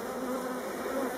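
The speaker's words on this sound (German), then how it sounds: "Bienen sitzen jetzt überall." Honey bees buzzing loudly and close after a Warré hive box is shaken, a dense, continuous drone with no voices.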